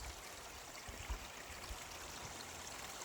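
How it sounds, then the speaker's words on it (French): A small stream flows outdoors in nature, a steady, soft rushing wash with faint gurgles, quiet and continuous without any voices. "Hey, un petit ruisseau."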